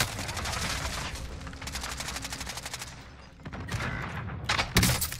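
Gunfire in the shooter Warzone, including a sniper rifle shot, heard as rapid automatic bursts followed by a short lull and then a sharp, loud crack near the end.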